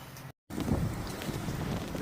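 Gusty wind buffets the microphone on a windy day, with a steady low rumble filling the clip after a brief dropout near the start.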